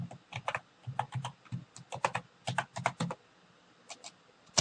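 A password being typed on a computer keyboard, close, crisp keystrokes in quick irregular clusters with short pauses between, no voices.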